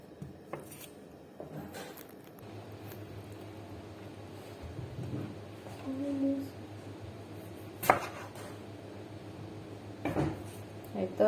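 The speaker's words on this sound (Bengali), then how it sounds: "তার জন্য পেঁয়াজ রসুন এগুলো সব কেটে নিতেছি" Knife chopping onion and garlic on a board for a tomato dish, with scattered sharp taps and a few louder cuts near the end over a low steady kitchen hum.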